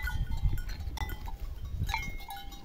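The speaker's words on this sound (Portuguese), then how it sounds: "Olha os bodes gordos aí, ó." Fat breeding bucks on a hillside goat farm, with bleating goats and livestock noise rising and falling over rustling ambience, a few sharper calls standing out at mid distance.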